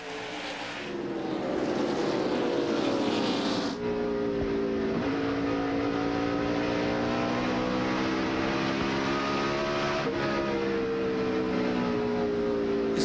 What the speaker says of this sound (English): listen how he gets off the throttle and just lets the car coast through. Then starts picking up the gas.